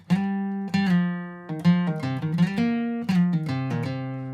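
Electric or acoustic guitar picks out a bluesy turnaround lick, with slides and pull-offs across a short run of ringing notes, played solo, close and clear.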